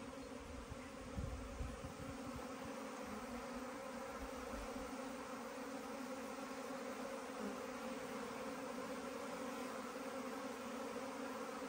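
A swarm of honeybees buzzing around a hive at an apiary: a dense, continuous drone of many wings, steady and fairly close, with no voices over it.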